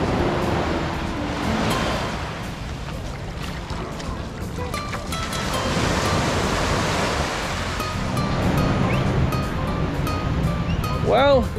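Ocean waves washing in at Patong Beach, a continuous broad surf wash heard nearby, with voices and faint beach activity mixed in.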